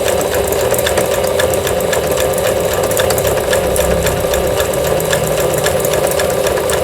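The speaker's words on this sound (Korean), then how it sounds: "세발뜨기 바느질." A Singer sewing machine runs steadily while sewing a three-step zigzag stitch, making a loud, continuous mechanical whir with a fast, even needle rhythm throughout.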